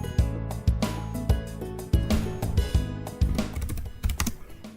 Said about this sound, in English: then you can start the typing of company address